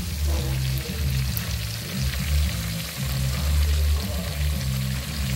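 Mandi fish fries in hot oil, giving a steady, dense sizzle with a low bubbling undertone that stays loud and close throughout, with no voices.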